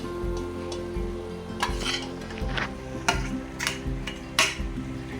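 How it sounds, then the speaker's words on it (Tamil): Tomatoes sautéing with coriander, mint and green chillies in a pan for biryani, a steady sizzle under repeated scraping stirs and clinks of a spoon against metal, close and fairly loud, with no talking. "இதை நம்ம நல்லா வதக்கணும்"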